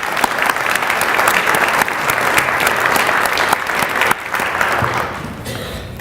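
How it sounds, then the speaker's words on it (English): Sustained applause from an audience at a veterans' dignitary breakfast, steady clapping for a veteran throughout, thinning slightly toward the end. "how about a round of applause for Mr."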